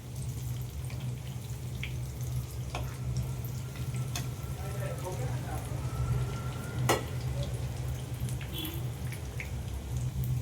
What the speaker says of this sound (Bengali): এবার আমি লাল লাল করে মিডিয়াম আঁচে ভালো করে পেঁয়াজিগুলো ভেজে নেব